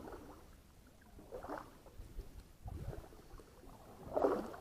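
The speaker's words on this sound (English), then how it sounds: "I'm going to paddle down this side real quick" A canoe being paddled on open water during a beaver trapping scouting trip, with soft, rhythmic paddle strokes and water swishes repeating every second or so against light wind, quiet and close.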